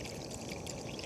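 Water is poured into a cooking pot of chicken and pineapple broth at a solo mountain campsite, a soft, close, continuous trickle lasting about a second.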